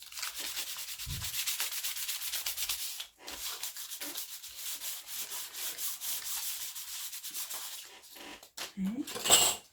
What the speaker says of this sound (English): Now first we have to sand it lightly.